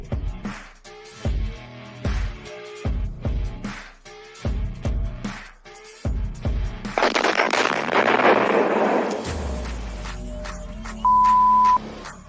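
Bombs and artillery exploding in a forest: a run of sharp, loud blasts with dark rumbling tails, then a dense roaring barrage of overlapping detonations that fades into a lingering low rumble with a faint steady tone.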